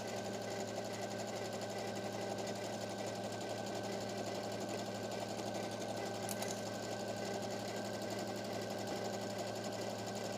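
A sewing machine stitches straight lines in a steady, continuous whir with a fast mechanical chatter, running unbroken at a quiet, even level throughout.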